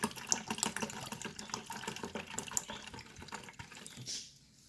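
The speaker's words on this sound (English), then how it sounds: "We're just pouring it back in." Water poured back into the reservoir of a Keurig coffee brewer during a descaling clean, a steady splashing fill lasting about four seconds before stopping abruptly, close and moderately quiet with no talking.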